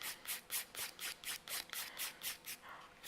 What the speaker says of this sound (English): Once again, only in one direction. I'm not filing back and forth,